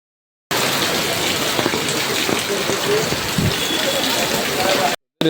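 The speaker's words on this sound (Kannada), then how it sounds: "ಹೊರಗೆ ಮಳಿ ಬರತೈತಿ" Rain falls outside in a steady, dense hiss that sets in abruptly and holds at an even level for several seconds before cutting off.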